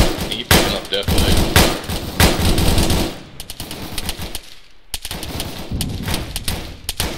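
Heavy automatic gunfire in ARMA 3 during a squad firefight across a field toward a tree line, loud sharp bursts that drop off briefly midway before resuming.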